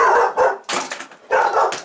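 A dog barks in three loud, close bursts, each a quick cluster of sharp barks and yips separated by brief pauses, heard during a tabletop roleplaying game session.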